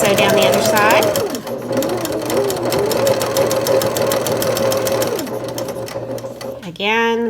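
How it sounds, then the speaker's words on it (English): A sewing machine runs steadily for several seconds, stitching a needle tag seam through fabric layers with a rapid even whir, then stops; a voice speaks briefly at the start and again at the end. "let's sew down the other side"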